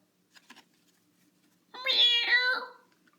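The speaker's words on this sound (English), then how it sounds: "Is that a cat? Yes. It's a cat." A cat meows in a drawn-out, wavering call that sits close and fairly loud, preceded by a couple of faint, soft sounds.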